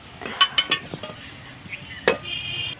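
A spatula scrapes and clinks against a wok as a chickpea laddu mixture is stirred with ghee over low heat. Several sharp metallic taps come close together, then a pause, one more knock, and a faint sizzle.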